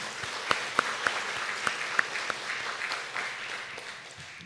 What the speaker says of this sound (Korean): 여러분 격려와 우리 응원의 박수를 한번 드렸으면 좋겠습니다